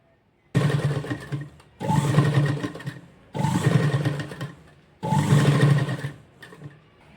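Four separate runs of a sewing machine stitching a strap for a double-layer lehenga, each a few seconds of close, buzzing whir with short quiet gaps between them and no talk.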